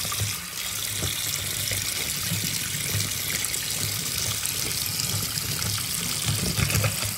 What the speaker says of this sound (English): I always start my water to running